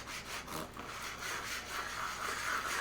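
Steady abrasive rasping of a brick scrubbed back and forth, continuous gritty scraping strokes close up, fairly loud and alone with no talking.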